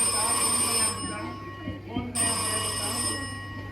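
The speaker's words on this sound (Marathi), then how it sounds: "फोन रिंग जाता अंकल।" A telephone rings with a sustained electronic tone, briefly dipping in the middle before resuming, with faint voices in the background.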